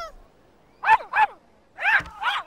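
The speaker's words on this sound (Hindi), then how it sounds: "ये टॉमी किस पर भौंक रहा है?" A dog barks two short yelps, falls briefly quiet and then barks twice more. The barks are close, clear and high-pitched, against a quiet background with no talk.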